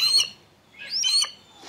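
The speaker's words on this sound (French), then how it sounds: "aigles, hiboux et vautours lui répondent" Captive birds of prey, among them eagles, owls and vultures, give two sharp, high calls about a second apart, close and clear against quiet, with a third starting at the end.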